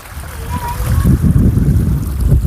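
Water stream flowing at Fot Mahadev near Nakhatrana after several days of rain, a steady rushing wash with low rumble, close and fairly loud throughout.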